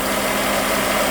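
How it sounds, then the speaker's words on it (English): A 2008 Honda CR-V engine idling steadily while its AC compressor clutch cycles, a loud, close, continuous low hum and drone with no voices over it. "you can see the compressor is running, just kicked off"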